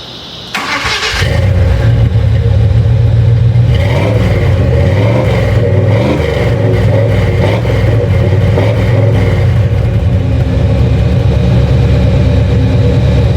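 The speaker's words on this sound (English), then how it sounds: "Turned the key a little bit, so we got some gas up to the front and ready to give it a crank." A 1986 Chevy K10 pickup engine cranks briefly, catches and starts, then settles into a loud, steady rumbling idle with occasional small revs.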